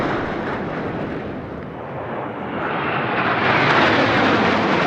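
Military aircraft flying in Bars formation pass overhead at a Republic Day flypast, producing a loud, broad jet roar that dips briefly and then swells as they sweep by.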